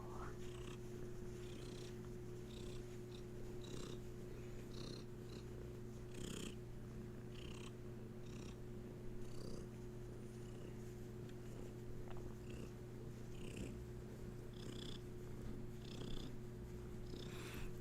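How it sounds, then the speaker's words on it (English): A cat purring steadily and continuously at close range, a soft low rumbling drone throughout, with faint background noises overlaid. "she's a purring machine whenever the Reiki's on."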